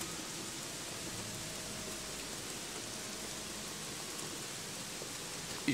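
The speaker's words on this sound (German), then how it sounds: "Das hat den Regen jetzt nur verstärkt." Steady rain in the video game Gothic 3 patters down in a continuous hiss, moderately loud and even, with no voices over it.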